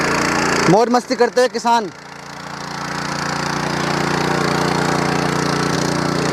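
A Sraja power weeder tills soil with its engine running. Someone speaks briefly over it at the start, then the engine carries on alone as a steady, even drone that swells slightly.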